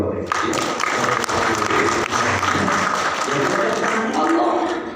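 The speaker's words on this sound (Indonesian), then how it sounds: "Tepuk tangan dulu Bapak." A live audience at a religious talk breaks into steady, full applause that holds loud and dense for several seconds before easing slightly at the end.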